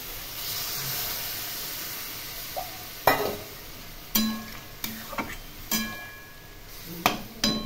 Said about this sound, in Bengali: কষানো হয়ে গেছে, এখন জল দিয়ে দিলাম।